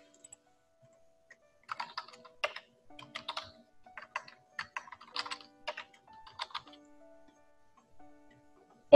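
A computer keyboard typed on in short irregular bursts of close, crisp clicks with brief pauses between runs, while entering family details into an online college admission form, heard alone in a quiet room.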